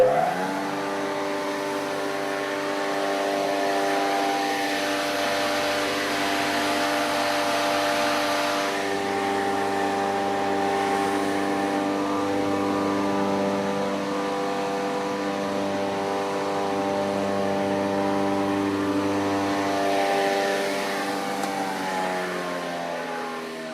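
A machine fluffs and stretches cushion stuffing in an upholstery workshop, giving off a sustained whirring motor drone with a tonal hum that holds steady, dips briefly midway and continues, without any speech.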